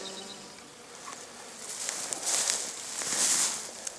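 Steady buzzing of bees and bumblebees flying around outdoors on a north-facing slope, swelling louder and softer as insects pass nearby.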